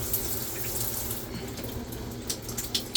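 Steady water running from a faucet inside an RV, a continuous soft rushing hiss at moderate level with no talking.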